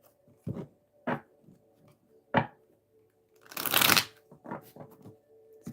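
A deck of tarot cards being shuffled by hand during a live reading, with several short riffling bursts and one longer, louder riffle near the end, close and clear with no talking.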